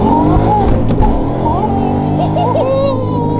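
A Whipple supercharged Mustang GT making a low-gear launch at low speed, its loud engine roaring steadily close by with a brief tire chirp, and a voice faintly underneath.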